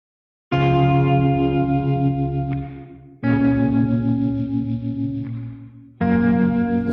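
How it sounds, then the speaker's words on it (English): Two tremolo electric guitars sound a chord's root and its third an octave higher, wet with echo and chorus-like effects, in three sustained strums that each ring out and fade before the next hits loudly, no talking. "I think these tremolo guitars that we're going to listen to right here were literally just the root and the third of the chord that I had."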